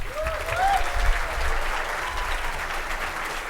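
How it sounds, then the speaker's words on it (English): Steady conference-hall applause welcomes a speaker, a dense, even wash of many hands clapping at moderate loudness throughout, with a brief vocal sound near the start. "thank you very much for the applause"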